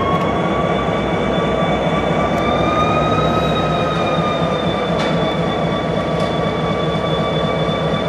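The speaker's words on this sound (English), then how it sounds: "what you just witnessed was the starting up of an old GP30" An old GP30 diesel locomotive in a B&O rail yard runs with a loud, steady rumble and sustained whining tones throughout. No voices are heard.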